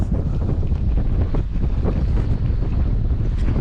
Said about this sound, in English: This wind has just picked up a notch.